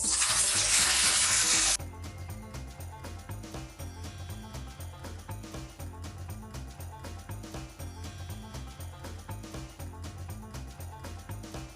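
Venison loin sizzling steadily in a pan of butter, a close, even crackle and spatter, opening with a brief louder hiss before settling to a constant fry.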